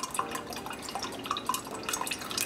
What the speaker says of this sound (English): we're going to strain this very carefully and slowly, and this will melt or go through the cheesecloth